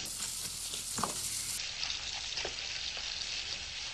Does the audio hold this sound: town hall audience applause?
no